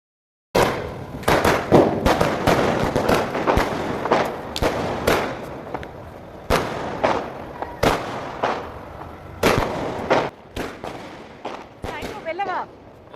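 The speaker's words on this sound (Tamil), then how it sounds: "கொஞ்சம் நேரம் பட்டாசு வெடிக்க போயிட்டோம்" Firecrackers bursting at a Karthigai Deepam festival celebration in a rain-wet setting: a long run of sharp, loud cracks and booms, some closely spaced, others spread out, echoing nearby with faint voices beneath.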